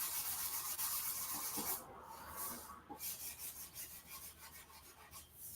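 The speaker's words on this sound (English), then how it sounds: "I'll do that by going back to my 400 grit and gently go over this." Sandpaper of 400 grit rubs by hand over a metal motorcycle tank in gentle back-and-forth strokes, a soft, close, rhythmic rasping with no talking.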